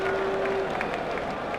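A stadium crowd at a New Zealand versus Australia cricket match applauds as batsman McMillan walks off after being bowled for 27, a steady roar of clapping and cheering that fills the clip without a break.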